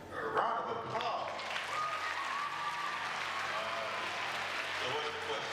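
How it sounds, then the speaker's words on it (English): A student audience at a school assembly breaks into steady applause, a dense wash of many hands clapping that holds evenly throughout, with a voice briefly audible near the start. "A round of applause."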